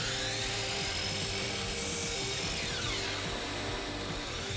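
A power saw cuts the excess off the back of a 2x4 board while an outdoor bench frame is built, a steady loud whine running through without a break and no one talking.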